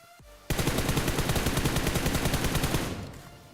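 Rapid automatic gunfire in the mobile game BGMI rings out as a sustained burst of evenly spaced shots for about two and a half seconds, loud and close, with no talking.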